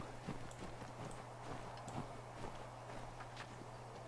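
Horse hooves clip-clop at a walking pace in Assassin's Creed 3, a steady run of soft, rhythmic hoof strikes over a constant low game-ambience hum, with no talk.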